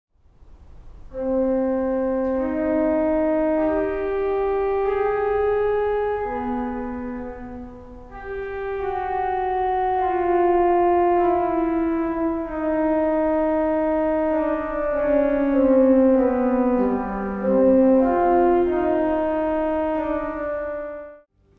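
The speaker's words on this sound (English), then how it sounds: "I first want to consider a fugue by J.S. Bach, whose main melody or subject sounds like this." A J.S. Bach fugue subject played as a single clear melodic line of sustained tones stepping through a tune, loud and alone with no talk.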